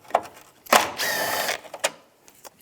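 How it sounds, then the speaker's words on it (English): A ratchet fitted with a 10mm socket removes bolts during A/C condenser replacement on a 2008-2017 Buick Enclave, giving brief bursts of fast mechanical clicking up close, with a longer continuous ratcheting run in the middle. "Now we're going to take these bolts out. Use a 10mm socket."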